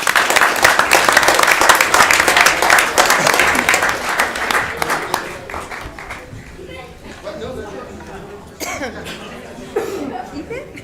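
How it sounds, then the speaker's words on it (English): Audience applause at a city council meeting honoring civil rights and mock trial teams, loud and dense at first, then thinning out, with chuckles, scattered voices and a few late claps. "Can I please have another round of applause for the Civil Rights Team and the mock trial team?"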